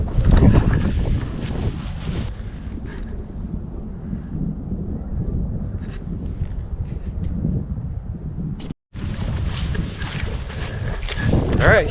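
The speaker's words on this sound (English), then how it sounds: "that wind is coming right at me" Strong wind buffeting the microphone outdoors at night during a storm, a dense continuous low roar with gusts swelling louder at the start and end, plus a brief dropout.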